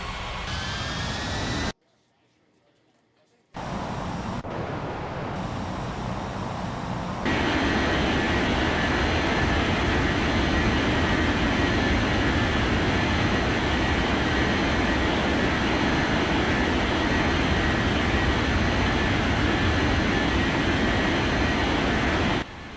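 An airliner taking off from runway 36 in an air traffic control game: a steady, loud engine roar that briefly drops out, then swells and holds as a dense, constant rumble.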